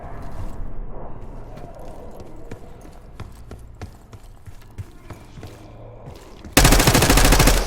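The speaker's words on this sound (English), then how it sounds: "You hearing gunfire?" Rapid bursts of Call of Duty gunfire crackle through the clip, single shots and quick volleys, ending in a loud sustained roar of automatic fire.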